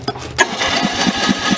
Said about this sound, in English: we're gonna turn it over with a starter.